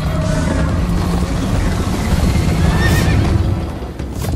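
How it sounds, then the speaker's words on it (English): In the Minecraft Story Mode video game, a horse whinnies loudly over the steady thud of galloping hooves and a rumbling background, all close and continuous. "First time on a horse here!"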